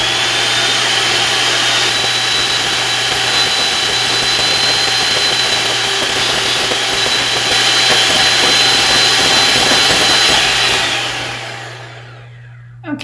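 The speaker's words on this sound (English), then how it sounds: "we're going to start by whipping these egg whites until they're stiff peaks" An electric mixer whips egg whites to stiff peaks for keto cupcakes, giving a loud, steady motor whir with a dense beater hiss that holds constant for about eleven seconds before winding down and cutting off.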